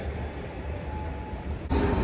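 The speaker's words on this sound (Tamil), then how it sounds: "ட்ரெயின் வந்துடுச்சு" A train pulls into a station, a steady low rumble of wheels and carriage noise with a faint tonal hum, swelling suddenly louder near the end as it draws close; no talking.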